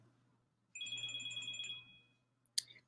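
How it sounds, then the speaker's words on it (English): A mobile phone ringtone plays loud and alone, a bright repeating electronic melody lasting about a second, followed by a sharp brief clatter. "I didn't shut my phone off. I thought I did."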